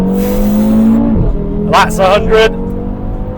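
A tuned 500 hp Audi RS3 pulls hard with a loud, rising engine note, then a sharp shift and drop before revving climbs again in short bursts, with someone speaking over it inside the cabin.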